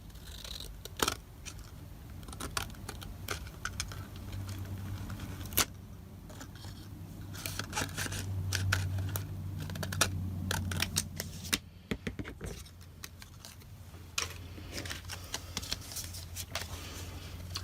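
Scissors trim paper strips for a Christmas card project, snipping up close in a rapid irregular series of crisp cuts against quiet background rustling, with no talking.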